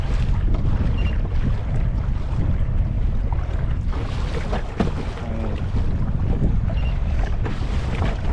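Strong wind roars across open water at Temple Bar, Arizona, a constant loud buffeting rush against the microphone with splashing and rumble underneath, no voices heard.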